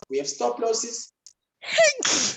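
A single sharp sneeze bursts out after a stretch of speech and a brief pause, close and loud, during a spoken lesson about trading.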